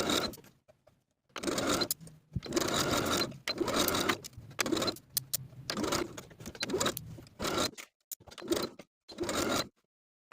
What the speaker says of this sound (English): I'm going to sew carefully all the way around, making sure not to catch any puckers